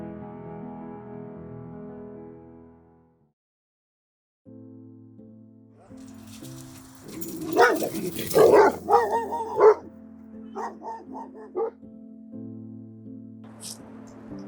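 A dog barks in a burst of several loud, close yips and woofs over soft, steady background music, then quiets as the music continues.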